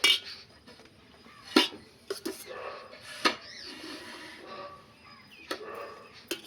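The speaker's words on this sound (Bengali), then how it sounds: "এই যে ভাতটা বেড়ে ফেলি ঝটপট।" Rice being served onto a plate at home, with dishes and cutlery clinking in several sharp, close taps spread across a quiet room, plus faint murmuring.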